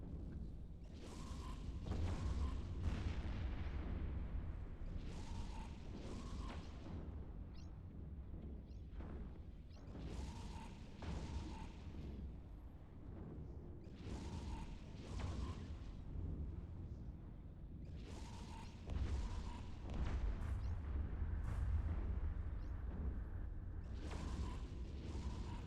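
During an attack in the Eve Echoes video game, missiles fire in repeated bursts. Each salvo is a booming launch with a whooshing tail, and the salvos come every few seconds with low mechanical rumble beneath them.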